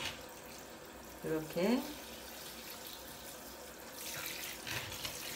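Lukewarm water is poured gently onto the soil beneath the leaves of a potted cyclamen, giving a brief splashing trickle, then a softer pour later, while someone talks throughout.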